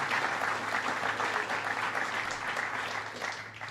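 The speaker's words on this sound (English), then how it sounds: "Would you give him another round of applause?" Applause from a sizable audience at a Vice President Mike Pence healthcare speech in Springdale fills the clip, sustained and fairly distant, tapering slightly toward the end.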